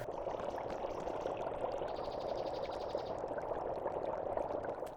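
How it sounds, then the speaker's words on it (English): Water bubbles and gurgles steadily in a video game, a continuous close liquid burble with no voices over it. "All I can hear here is bubbling."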